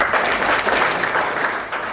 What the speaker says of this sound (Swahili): Pigeni Jesse makofi.